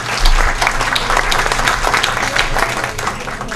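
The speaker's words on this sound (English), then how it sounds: "Let's give everybody a big round of applause." A big crowd at a monthly city forum claps in a dense, steady burst of applause, fairly close and loud, with light crowd noise mixed in.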